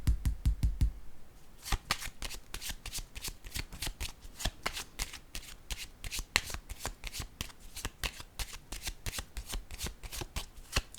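Tarot cards are shuffled and handled in quick riffling bursts, followed by a long run of sharp, evenly spaced snaps and flicks as cards are laid out, close up with no talk.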